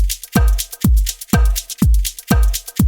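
Elektron Digitakt percussion loop with brushed hi-hats and snare, punchy low hits repeating in a tight groove about every half second, close and loud with no talking.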